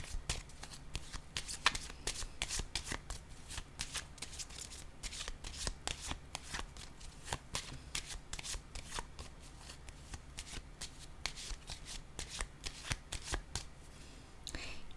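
Playing cards shuffled and laid down during a tarot-style reading, a steady run of crisp riffling and light slaps close to the microphone, continuing with only brief pauses and no talk.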